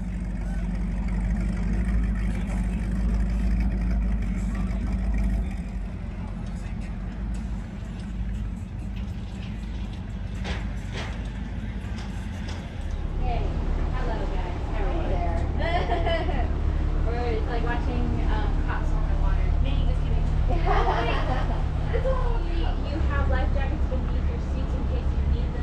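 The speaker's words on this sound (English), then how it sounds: "I'll just let you enjoy the sights and sounds of this boat ride." Tour boat motoring up Antelope Canyon on the water, a loud steady engine drone with rushing water and wind throughout, some distant voices and splashing noises mixed in.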